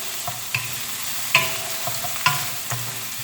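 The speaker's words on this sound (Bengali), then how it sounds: "ফ্রোজেন ভেজিটেবল বেশিক্ষণ ফ্রাই করতে হয় না" Frozen vegetables for fried rice sizzle in a pan, with a continuous hiss broken by several sharp scraping strokes of a spatula, close and loud with nobody speaking.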